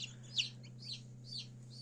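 Newly hatched black-copper Marans chicks give a few faint, high peeps, scattered and soft, over a steady low electrical hum.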